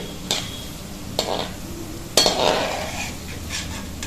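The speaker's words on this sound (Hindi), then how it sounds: "हम काजू डालेंगे, इसको भी बहुत ज़्यादा नहीं भूनना है, हल्का हल्का भूनना है इसको।" Cashews being lightly roasted in a pan for a Janmashtami panch mewa paag sweet, with a spoon clinking and scraping against the pan in a few separate strokes over a faint low hiss, close by.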